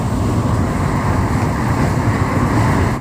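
A dense, continuous rumble of an LRT train moving through UN station, close and loud throughout with no distinct voices.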